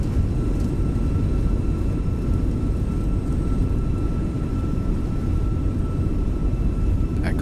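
A Fenix A319 airliner in MSFS 2024 rolls out and slows after a crosswind landing, giving a steady, even low rumble with a faint whine above it and no voices.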